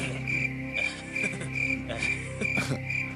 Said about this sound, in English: right when I'm trying to make a serious point about cricket noises